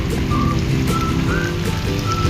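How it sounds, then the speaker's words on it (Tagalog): Steady rain falls during bad weather along a street, a dense continuous wash with faint whistling tones drifting above it, no voices. "Umuulan pa rin po."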